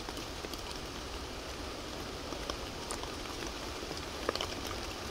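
Steady, even rain patters continuously with a dense hiss of drops, a few sharper taps standing out now and then, with no voices.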